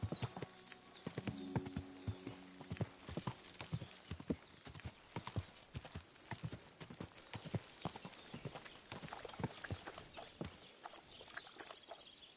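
Horse hooves clip-clop steadily through the whole stretch in a medieval game setting, a close, rhythmic series of sharp knocks with occasional shouts and a whinny over them.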